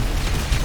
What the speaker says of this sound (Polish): wysadzamy ciężarówkę.